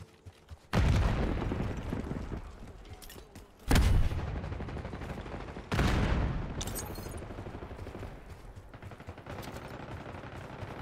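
Call of Duty Black Ops 6 gunfire comes in three loud bursts, each a sharp onset of rapid shots trailing off into decay, with quieter gaps between them.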